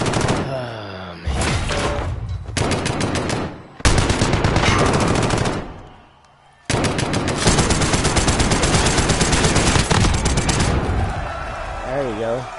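Machine gun fire in a shooter video game, loud rapid automatic bursts in long strings with a short pause between, close and dominant, with a voice talking underneath.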